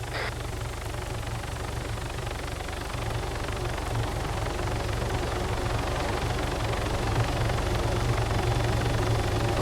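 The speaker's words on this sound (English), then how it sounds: "Helo inbound, coming over me." A helicopter comes in overhead during a training exercise, a steady heavy low rotor thump and engine roar that builds slowly louder and closer across the whole stretch, with no voices over it.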